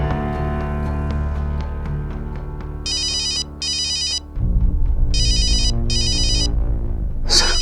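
A mobile phone ringtone after a number is dialed, electronic ringing bursts repeating in pairs over a low background hum, with no talk.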